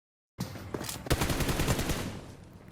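Gunfire in BGMI as a player pre-fires in first-person view from a window: silence breaks into a sustained, loud burst of rapid shots that rattles on for about two seconds before tapering off.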